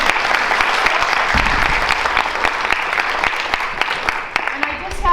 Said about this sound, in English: Round of applause for Mr. Taylor.